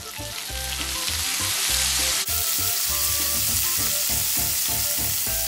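Shrimp frying in a pan with parsley and lemon juice give a loud, constant sizzle alone, with a brief clatter of stirring partway through.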